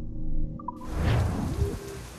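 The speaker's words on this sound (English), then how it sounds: "And the rain had to start, didn't it?" Rain begins falling in the pirate-era game Assassin's Creed IV Black Flag, a steady broadband hiss swelling in after a quiet start with a few brief tones, with heavier patter underneath.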